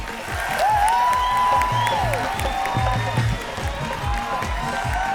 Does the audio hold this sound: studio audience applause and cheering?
yes